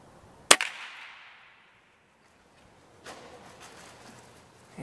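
A single sharp airgun shot is fired straight down at a pigeon from an abandoned urban building and cracks close and loud. Faint scuffling and rustling follow a few seconds later.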